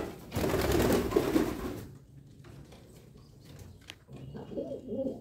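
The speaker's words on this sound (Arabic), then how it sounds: "طبعا بقى نسيب الحمام مع بعض" Pigeons cooing together in a loft, a close, louder burst of coos at first that fades to quieter intermittent cooing and faint rustling.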